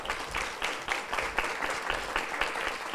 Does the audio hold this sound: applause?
yes